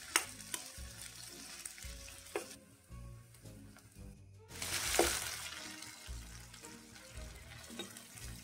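Ground ginger-garlic paste hits a hot tempering for black masala chicken fry, raising a loud steady sizzle of frying with stirring scrapes and a sharp burst of spitting midway, no talk.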